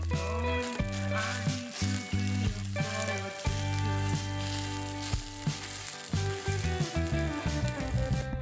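Rice heating in a camping pan on a bikepacking trip, giving a continuous frying sizzle half-buried under steady background music.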